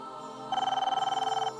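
A telephone rings indoors with one sharp, trilling burst of rapid electronic bell pulses lasting about a second, loud and close, with no voices.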